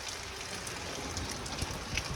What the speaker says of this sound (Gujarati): વરસાદ ચાલુ થઈ ગયો જો એકદમ વરસાદ